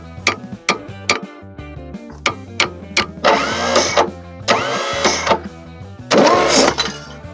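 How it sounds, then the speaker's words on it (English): An old engine left out in the weather for decades is cranked on its starter in short repeated bursts, each a rhythmic ticking, chugging turnover separated by brief pauses. "I'm gonna hit this starter a little"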